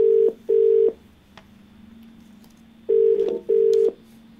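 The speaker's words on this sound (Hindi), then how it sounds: "चलिए फोन लगाते हैं अपने अगले कॉलर को।" Telephone keypad dial tones beep in two pairs of steady electronic tones, with a quiet hum between them while a line is being dialed for a TV call-in show.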